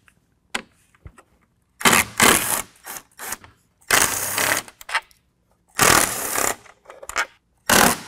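On a 2022 Ford Bronco, grille bolts come off with a 10mm socket, heard as loud, close bursts of a powered driver whirring for a second or so each, separated by short silences and small clicks.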